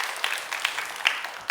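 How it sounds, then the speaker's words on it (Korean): A church congregation gives a brief burst of scattered hand clapping, several claps spaced out over a second and a half, fairly faint and thin. "박수 한번 해주시죠"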